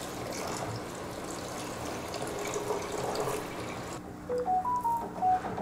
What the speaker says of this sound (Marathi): तर आता गरम पाणी घालून घेऊया.